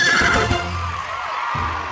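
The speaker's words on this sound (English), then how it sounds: "What a good horse you are." A cartoon horse gives a short bright whinny at the start, loud and close, followed by low rumbling background sounds with no talk.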